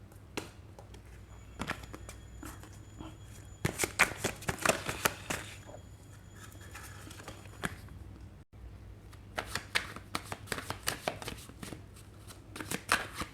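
Tarot cards are shuffled close by in quiet, rapid bursts of flicking and riffling, with one brief pause partway through before the shuffling starts again.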